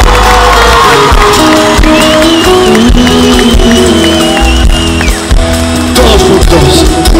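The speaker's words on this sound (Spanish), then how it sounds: "un aplauso fuerte para él" An open-air concert crowd in Vigo cheers and whoops for a Spanish guitarist during a show, loud shouts mixed with applause over live band music and sustained guitar.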